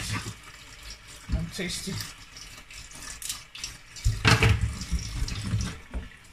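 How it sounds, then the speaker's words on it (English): Tap water runs over mackerel fish being washed in a kitchen sink, a steady broadband rush with louder splashing bursts near the end while a person talks over it. "I'm going to be washing them now."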